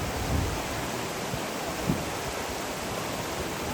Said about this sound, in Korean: 이 폭포는 장백폭포라 하기도 하고 비룡폭포라 하기도 한다.